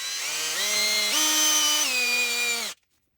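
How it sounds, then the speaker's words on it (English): A power drill mixes epoxy resin with a loud, close, high whine that rises in pitch in steps as it speeds up, runs steadily for under three seconds, then cuts off abruptly. "I'm using a drill to mix this because you've really got to have epoxy mixed well"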